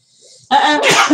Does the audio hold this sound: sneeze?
yes